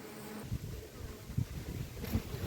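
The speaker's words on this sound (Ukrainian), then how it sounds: "Це бджоли прилітають з обножкою і з подсолнуха" Honeybees buzz close by at a hive entrance, returning with pollen from sunflowers, a soft, uneven drone with several insects darting past, rising and falling in loudness over a quiet background.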